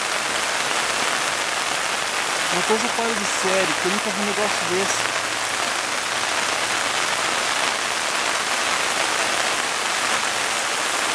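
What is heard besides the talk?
heavy rain in Sarandi, Paraná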